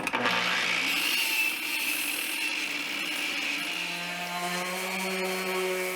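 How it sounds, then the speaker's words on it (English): A power saw cuts through 2x6 pine boards for table legs, a loud continuous whining buzz with shifting tone as the blade works through the wood, with no talking. "Now I'm starting to cut the 2x6 pine for the legs"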